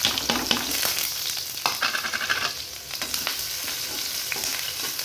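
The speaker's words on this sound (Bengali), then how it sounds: "এবার আমি কেটে রাখা পেঁয়াজ রসুন আর লঙ্কাগুলো দিয়ে দিব" Chopped onion, garlic and green chillies hitting hot oil in a pan, a loud continuous sizzle with crackling spatter and occasional stirring scrapes, close by and without talk.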